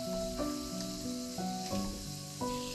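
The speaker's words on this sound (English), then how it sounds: "Fry, stirring and breaking up the onion pieces." Onion pieces fry in a pan while being stirred and broken up for a Goan chicken green curry. The sizzle is steady and close, with music-like tones running underneath.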